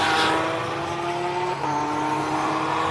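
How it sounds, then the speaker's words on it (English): BMW race car with a 3-liter triple-turbo nitrous diesel at a hillclimb, a loud sustained engine roar close by, pitch climbing steadily with a brief dip as it shifts, no talk. "Gary Martin's in probably the world's craziest BMW, a 3-liter triple turbo nitrous diesel"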